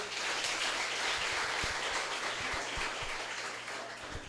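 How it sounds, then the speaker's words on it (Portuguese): Congregation applauding during a Sunday evening church service, a fairly soft, steady wash of many hands clapping that thins slightly toward the end, with a few low thumps mixed in. "Você pode aplaudir ao Senhor?"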